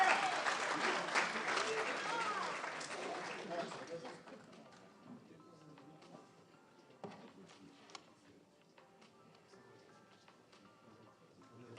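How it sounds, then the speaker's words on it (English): Applause rises from the audience at a live Doctors for Democracy event on democracy in Pakistan, loud and full for a few seconds before thinning out into scattered, fading claps. "So a good round of applause for"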